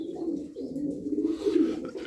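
Pigeons cooing in a loft, a low continuous throaty coo close by that swells toward the end, with no talking.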